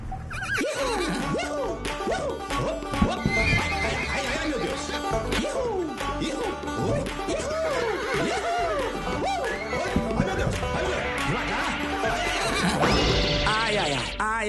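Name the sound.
horse neighing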